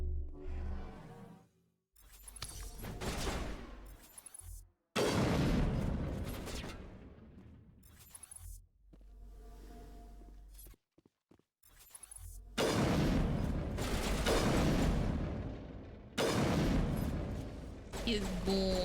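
Gunfire bursts and booms in the Mass Effect 1 video game, coming in loud broadband clusters broken by short gaps, with dialogue and game sound underneath.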